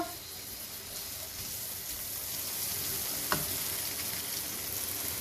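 Finely chopped medium onion frying in oil gives a steady, soft sizzle throughout, with a single brief clink partway through.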